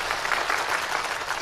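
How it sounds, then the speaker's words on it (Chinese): A studio audience applauds a guest being welcomed. The dense, continuous clapping fills the short moment at an even, fairly loud level. "首先让我们掌声欢迎今天的幸福导师，著名情感专家杨丽丽女士"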